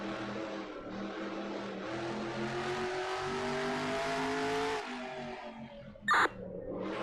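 A car engine in a racing game held in first gear, a sustained revving drone that climbs in pitch for several seconds, then drops off, followed by a brief sharp electronic blip and the engine picking up again.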